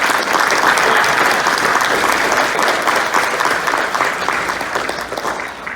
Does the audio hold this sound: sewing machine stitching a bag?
no